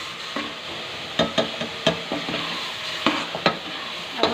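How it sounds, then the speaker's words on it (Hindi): A spoon stirs and presses a milk barfi mixture as it fries and browns in a pan, giving a steady sizzle broken by repeated sharp scraping knocks at an irregular rhythm, close and fairly loud. "इसको हमने चम्मच हिला हिला कर दबा कर इसको हमने सही ब्राउन सा कर लिया है।"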